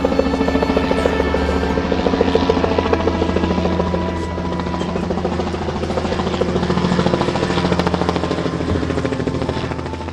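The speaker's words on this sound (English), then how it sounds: "the Time Team helicopter was ready to go to take to the air" Time Team helicopter lifting off for an aerial survey of a site, a loud, steady close rotor thrum and turbine whine that holds throughout without speech.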